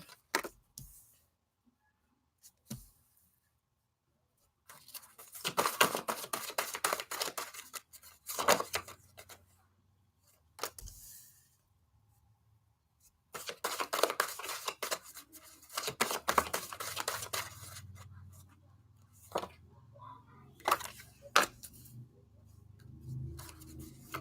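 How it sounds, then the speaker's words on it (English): Tarot cards laid down one after another on a table, giving soft papery slaps and shuffling in several short clusters separated by quiet pauses, close and faint. "I'm gonna lay down the cards here"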